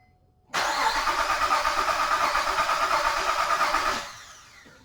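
A car engine cranks on the starter during a voltage drop test, giving one sustained, even, whirring churn lasting about three and a half seconds before it cuts off abruptly, close and clear.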